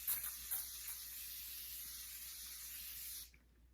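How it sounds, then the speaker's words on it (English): A single long, steady hiss of makeup setting spray sprayed onto a face lasts about three seconds, then cuts off abruptly, leaving quiet. "I will just spray this on my face for no reason"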